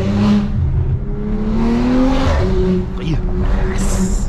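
A car making about 580 hp at the wheels accelerates hard, its engine roaring loudly and steadily with rising pitch, close by, as people talk over the noise.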